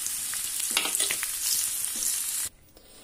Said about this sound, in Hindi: अब दूसरा जो बचा था अब इसको हम इसी तरह फ्राई कर लें